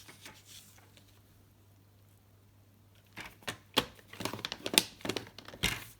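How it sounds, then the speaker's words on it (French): A paper Christmas card being folded along its creases with a folding bone: a quiet pause, then a close run of crisp paper crackles and sharp creasing snaps in irregular bursts. "je vais donc plier ma carte comme ceci"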